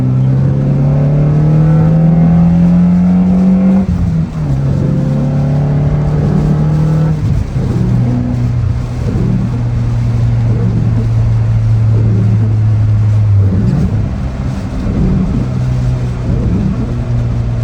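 Car engine hums steadily and loud throughout a drive, its pitch climbing and then dropping at a few gear changes, with no talking.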